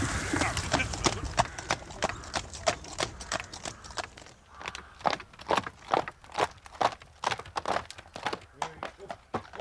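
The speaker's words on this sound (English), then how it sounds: "Puedes ensillar el caballo y guardar el coche." Horse hooves clip-clop steadily as a horse-drawn carriage moves along, the evenly spaced strikes close and distinct, with voices talking over the first half.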